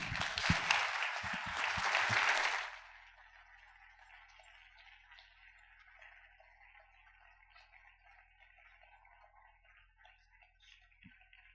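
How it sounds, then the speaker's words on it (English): A crowd claps after a speech at an MLK Day celebration, a short loud burst that stops abruptly after about three seconds, followed by faint ticking and quiet room tone. "another round of applause for Hill"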